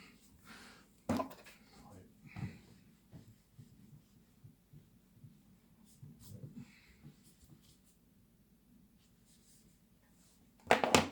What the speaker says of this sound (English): I'll just erase the board here